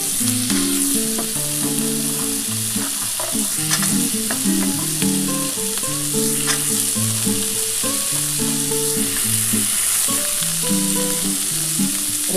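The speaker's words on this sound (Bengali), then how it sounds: "এবার আমি কড়াইশুঁটি আর ক্যাপসিকামটা দিয়ে দিচ্ছি।" Peas and capsicum sizzle steadily in a wok while veg fried rice cooks, with continuous frying crackle and occasional stirring scrapes and no talking.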